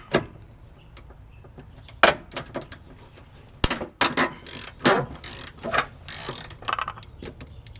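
A ratchet with a 17 mm swivel socket loosens an engine bolt on a Honda during a timing belt job, giving a series of quick ratcheting clicks and sharper metallic clacks in irregular bursts, close and fairly loud with no talk.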